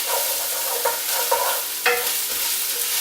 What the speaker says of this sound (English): we're going to add in the garlic as well. Give that a mix around.